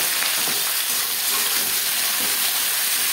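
Onions and tomatoes fry in a large kadai with a bay leaf for Bengali-style aloo chicken curry, a steady close sizzle and hiss running without pause, with no voices.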